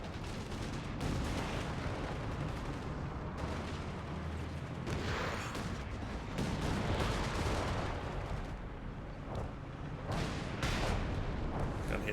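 Stuka dive bomber firing in a World War II strategy game, with dense rumbling bursts of gunfire and explosions layered continuously throughout, loud and busy with no pauses.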